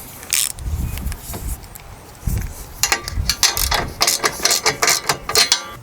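A ratchet clicks in quick repeated bursts, turning the seat bolts on a zero turn mower, with short pauses and metallic knocks between runs, close and fairly loud.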